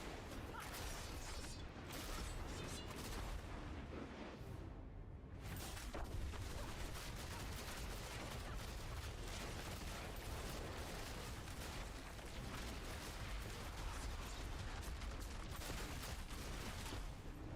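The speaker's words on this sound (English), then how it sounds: "Not sure how often these explosions are happening." Explosions in the Diablo 4 video game roll out in dense, overlapping blasts and crackling bursts, loud and continuous throughout amid chaotic combat noise.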